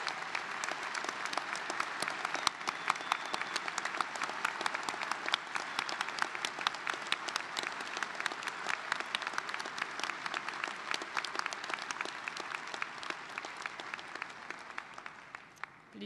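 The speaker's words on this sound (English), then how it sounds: "Let's give our graduates a well-deserved round of applause." A large audience at a university engineering graduation ceremony applauds steadily for a long stretch, the clapping dense and sustained before fading slightly at the end.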